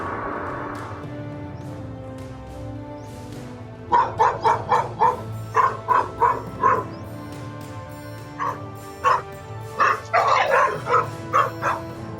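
A dog barks repeatedly in short, loud bursts, sometimes yelping, while confronting a king cobra; the barks come in irregular volleys, near and clear, with a low background hum.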